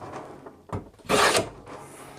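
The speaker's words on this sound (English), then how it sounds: "What I'm doing is making some thick shavings, and I'm using poplar so I can get that thickness." A hand plane set to a heavy cut shaves thick curls from poplar wood, a couple of short rasping strokes with a loud, forceful pass near the middle.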